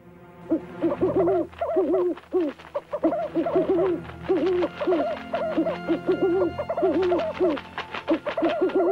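Owls in an animated Akbar Birbal folk story hoot loudly in a rapid, repeated series of wavering calls, with no talking over them.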